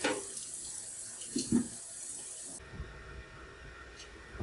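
Hot water runs from a tap while a waste bin is washed, a soft, quiet stream with a couple of brief splashes and knocks early on, then a thinner trickle toward the end.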